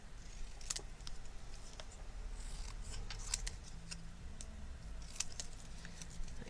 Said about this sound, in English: we're going to cut it as small as we can go.